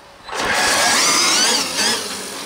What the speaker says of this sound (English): Can you hear the clutch shoes wind down? It's like a turbo.